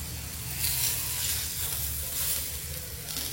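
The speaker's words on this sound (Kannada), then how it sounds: "ಜಬರ್ದಸ್ತ್ ಆಗಿ ಬರ್ತಿದೆ ಫ್ರೈ" Koravai fish frying in a pan, a steady loud sizzle and hiss of hot oil with gentle swells in intensity, continuous throughout without talk.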